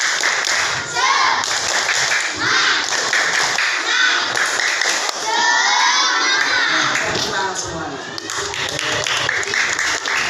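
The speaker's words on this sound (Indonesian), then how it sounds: "Tepuk semangat." Classroom pupils doing a rhythmic group clapping chant, with bursts of patterned claps and taps mixed with children's excited shouting and voices, loud and close.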